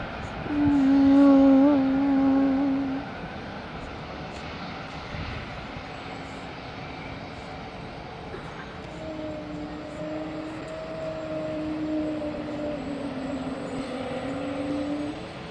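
Boeing 777 jet departing, its engines giving an eerie, whale-like moaning whine that glides in pitch, loud at first then settling into a steadier distant drone.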